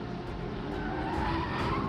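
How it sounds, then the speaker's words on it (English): A race car at Sebring skids with squealing tyres and rubbing bodywork after contact with an LMP3 car, a loud, continuous screech over engine roar. "He's had contact with one of the LMP3 cars. There's a lot of bodywork rubbing, and that didn't sound good"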